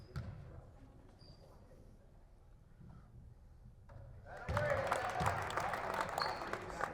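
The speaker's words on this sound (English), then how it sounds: "The golf clap for the Mohawks' 29th point" Polite scattered clapping rises from the crowd at a girls' varsity basketball game in a gym, swelling midway under an announcer's voice, with ball bounces nearby.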